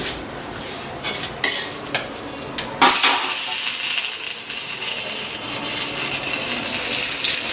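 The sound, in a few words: panch phoron spices sizzling in hot oil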